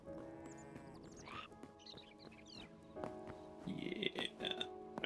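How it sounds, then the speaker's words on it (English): Sheep in the Hytale game giving a series of bleats, short wavering cries that grow louder and more frequent toward the end over soft ambient game sounds. "We'll let the sheep do what they're doing."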